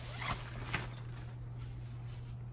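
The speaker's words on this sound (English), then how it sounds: "Zip it up" Zipper on a clam shell tent's bug screen being pulled closed outdoors, a few quick rasping strokes early on, soft and close over a steady low hum.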